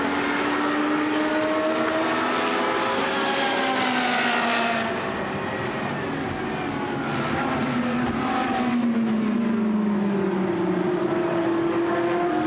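Two Ferrari 458 GT race cars battle down the back straight at Misano during a GT Sports Car Club race. Their engines roar loud and continuous, rising and falling in pitch, with no voices.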